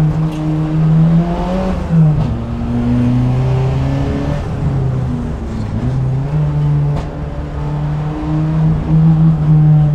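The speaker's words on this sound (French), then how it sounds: "Là, le turbo là qui monte." Renault R21 Turbo Europa Cup race car, about 300 hp through the front wheels, lapping the Charade circuit: loud onboard engine drone rising and falling through gear changes, with turbo whine building as revs climb.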